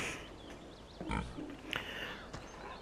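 Pigs oink and grunt in Farming Simulator 17 on PS4, a few short grunts standing out over a steady farm-game background hum, fairly close and moderately loud.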